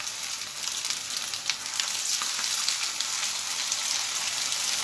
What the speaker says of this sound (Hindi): एक एक करके इसे फ्राई कर लेंगे।